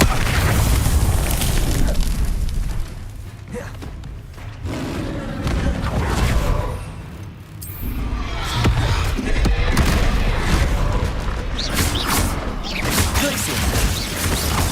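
Confringo spell blasts in the video game Hogwarts Legacy, landing as loud booming fiery explosions inside dense, continuous combat noise, with one brief lull in the middle.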